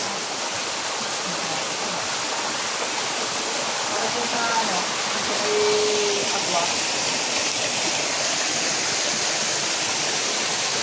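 Rushing water in a forest pours in a steady, dense roar throughout, loud and close, with faint voices barely audible beneath it.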